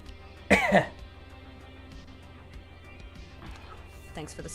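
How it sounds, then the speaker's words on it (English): A single short cough, close and fairly loud, breaks through a steady low background hum, followed by faint murmuring and quieter sounds toward the end. "Can you cough for me? Turn your head and cough."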